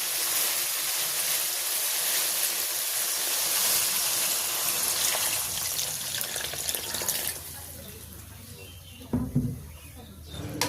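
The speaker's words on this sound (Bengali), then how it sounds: "এখন আমি জল দিয়ে দেবো।" Water poured into a pan of beans cooking in spiced masala, a continuous hissing splash that runs several seconds, then gives way to quieter bubbling and a few clatters.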